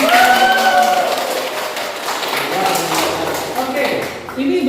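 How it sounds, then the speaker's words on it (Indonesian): An audience claps together through a lecture session, a dense, steady patter of many hands that fades slightly toward the end, with crowd voices mixed in. "Oke, tepuk tangan lagi."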